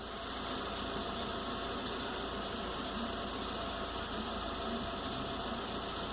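A Volkswagen Gol engine idles below 70 degrees during a clutch kiss-point learning procedure, giving a faint, steady, even hum with a hissy, noise-like character and no talk over it.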